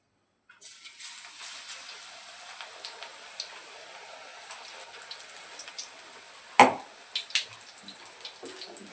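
A bread pakoda drops into hot oil, and a soft, even frying hiss starts abruptly, scattered with small pops and one sharper crackle partway through. It is fairly quiet and close, with no talking.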